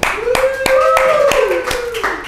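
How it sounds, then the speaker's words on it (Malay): A few studio guests clap at a casual talk show, distinct claps at a regular beat under a steady sliding tone, close and fairly loud. "guys tepuk tangan guys"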